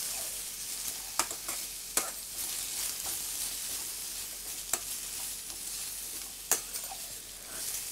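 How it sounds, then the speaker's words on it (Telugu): Chayote squash pieces with turmeric sizzle gently in a pan as a spoon stirs them, with soft scraping and a few sharp clicks of utensil on metal, close and quiet with no talking. "ఈ పసుపు వేసిన తర్వాత ఈ పసుపు పచ్చివాసన పోవడం కోసం మనం బాగా అటు ఇటు కలపాలి."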